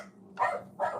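A dog barks twice in quick succession, short and fairly faint, with no talk around it.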